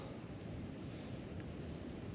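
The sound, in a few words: strong wind blowing a gale in the Australian bush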